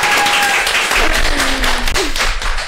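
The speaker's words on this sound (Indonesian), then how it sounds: "Tepuk tangan dong." A small group claps in a school podcast studio, a short burst of close hand claps lasting a couple of seconds with a faint tone in the background.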